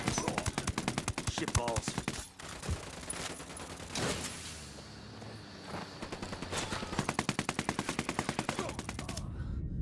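Rapid bursts of automatic gunfire from cartel reinforcements in the Ghost Recon video game, dense repeated volleys loud through most of the stretch, easing in the middle and returning strongly at the end, with a brief spoken exclamation over it.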